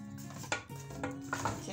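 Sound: stirring soup in a cooking pot

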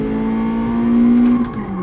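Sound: Toyota AE86 engine accelerating in second gear, GT Sport video game

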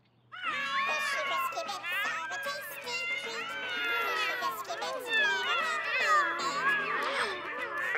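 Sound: cat meowing in cartoon cat food ad

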